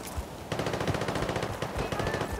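Rapid anti-aircraft gun fire in a shooter video game: a dense, continuous stream of close, loud automatic shots rattling steadily for the full stretch, with no voices over it.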